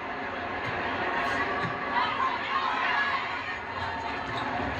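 A large crowd murmurs and chatters in an arena at a Nebraska college volleyball match, a steady dense hum of voices with a few laughs.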